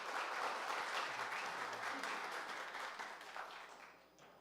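Applause in a municipal council chamber as an honoree comes forward, a full, even patter of many hands, fairly quiet and distant, tapering off toward the end.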